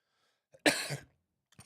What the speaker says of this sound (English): Tired of coughing here.